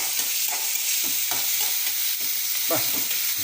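Onion and tomato fry in a pan as the base for a dried anchovy thokku, giving a steady, dense sizzle with soft, irregular stirring scrapes throughout.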